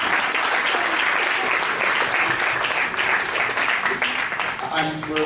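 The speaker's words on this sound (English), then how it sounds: "So a big round of applause for you." Loud, dense audience applause at a live community event, a sustained, even roar of clapping hands filling the whole stretch, with faint voices mixed into the crowd noise.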